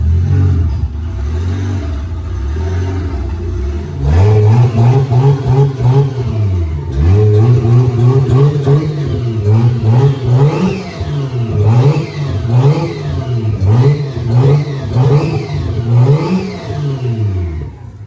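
A Toyota Aristo with a 1JZ-GTE engine and 5-speed swap starts for the first time, idling roughly before a series of loud, close revs that rise and fall repeatedly, with no talking.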